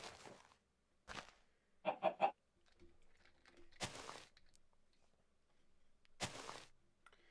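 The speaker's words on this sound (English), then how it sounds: "we're gonna have to break out the glass chicken" Three quick honking, goose-like clucks from a glass chicken in the Minecraft Stoneblock 2 modpack, set between short bursts of broadband noise and otherwise quiet gaps.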